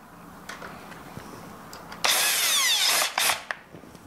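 Faint handling clicks, then a power drill with torque set to zero whirs loudly for about a second in a single burst, driving a thread-cutting screw during a timer switch replacement, followed by brief taps.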